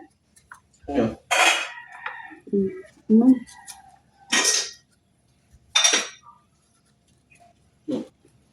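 Clattering of pans or feed containers comes in short bursts with pauses, a rooster crowing and chickens clucking nearby, with a voice speaking intermittently.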